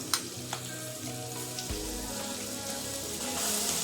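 Garlic frying in a pan for garlic rice makes a continuous hissing sizzle, with a few brief clicks and stirs near the start, heard alone at moderate volume.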